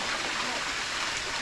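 A waterfall near Kathmandu roars in a steady, dense wash of falling water, loud and close, with no pause over the short stretch.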